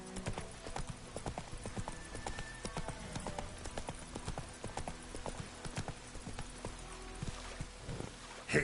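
Roach, the horse in The Witcher 3, trots along with brisk, evenly spaced clip-clop hoofbeats, fairly close and clear over a quiet background, with a small snort or whinny toward the end.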